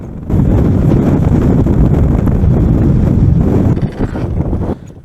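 Strong mountain wind on Denali, Alaska roars and buffets the microphone in a loud, continuous low rumble, easing briefly near the end before gusting again.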